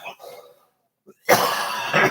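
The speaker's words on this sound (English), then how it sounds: "Oh, coughing fit again." A man coughs hard in short rough bursts during a casual indoor chat, loud and close, with a brief pause between fits.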